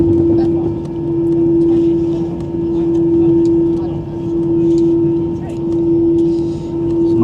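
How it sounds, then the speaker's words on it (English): An easyJet airliner heading down the runway for takeoff gives a steady loud engine drone with a constant high whine, swelling and easing in slow waves, heard from inside the cabin. "let the takeoff begin."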